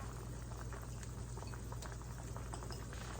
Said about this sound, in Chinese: 现在这个汤已经煮开了